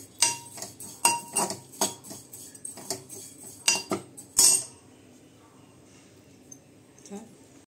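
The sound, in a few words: roasting oats in a pan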